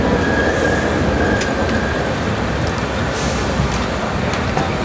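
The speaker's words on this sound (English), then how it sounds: "We pulled into platform number 8 of Thane station at 4:34 am," The Mangaluru Mumbai Superfast Express (12134) rolls into Thane station before dawn with a steady loud rumble of carriages on rails and a thin high wheel squeal running through the first seconds, continuous and close.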